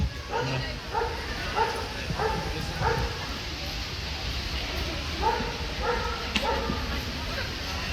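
Dogs yipping and barking at an outdoor dog festival in a park in Yerevan, repeated short barks in uneven bursts amid crowd noise, with people talking nearby.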